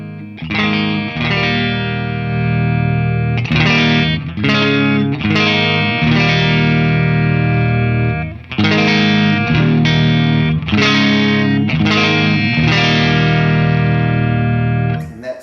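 Distorted electric guitar plays through a Bogner Ecstasy Classic amp with the volume run flat out, heard as loud, thick chords and riffs with short pauses and no talking.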